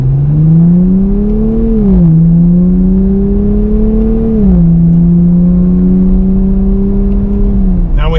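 A 2024 Nissan Z Nismo with a new engine accelerates hard in Sport Plus with manual shifts, its loud close engine drone climbing in pitch, dropping at shift points, then climbing again.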